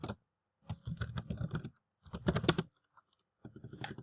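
Close, quiet clatter of a computer keyboard in bursts of rapid key presses separated by short pauses of silence, with no talking.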